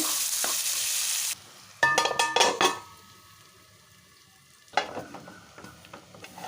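Onion frying in oil in a pan gives a steady hiss, broken by several sharp metallic scrapes and clanks of stirring near the start and again later, with no talking.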